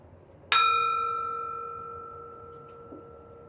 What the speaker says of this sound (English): I'll ring the bell to get us started and then again to close us at the end.